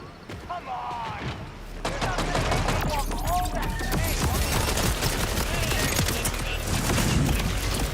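Vehicle-mounted guns in Borderlands 4 fire in dense, rapid bursts that run almost continuously, loud and close, over a busy game mix with speech-like voices and effects underneath.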